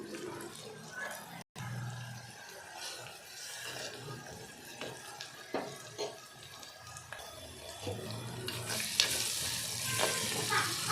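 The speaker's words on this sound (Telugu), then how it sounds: "ఉల్లిపాయ మంచిగా వేగిందండి" Onions frying in a pan with turmeric and ginger-garlic paste for brinjal curry, a low steady sizzle with scattered stirring scrapes, growing louder and brighter toward the end, close and fairly quiet.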